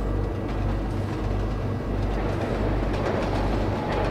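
A train rolls on rails in the Trainz video game, a loud, steady low rumble with rhythmic clickety-clack beats from the wheels, continuous and close.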